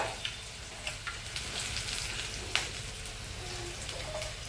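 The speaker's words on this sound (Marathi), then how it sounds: "आता मस्त मिरच्या तळल्या मम्मीनी." Green chillies frying in hot oil over a full gas flame, a steady close sizzle with occasional sharp pops and crackles, no talking.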